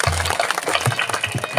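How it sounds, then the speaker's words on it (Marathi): Loud applause from a crowd at a Marathi devotional gathering, dense clapping running steadily throughout with a few heavier low thumps mixed in. "जोरदार टाळ्या."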